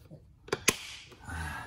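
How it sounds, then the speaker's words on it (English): Plastic door trim cover on a 2021 Toyota Highlander pressed back into place, giving two quick, sharp snapping clicks close by, followed by faint handling rustle. "And then the cover goes back on. We'll hear it snap."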